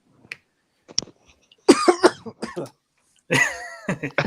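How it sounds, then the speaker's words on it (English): A couple of faint clicks are followed by two loud, rough coughs close to the listener, separated by a short silence. "I'll take that cough as a no."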